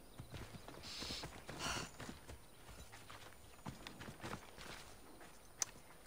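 Horse hooves walk in Assassin's Creed Odyssey, a faint, steady clip-clop of unhurried steps over a soft, noisy game background.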